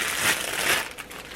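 Plastic packaging around 2.5-inch styrofoam balls being pulled open, a brief close crinkling and rustling lasting about a second before fading, no speech.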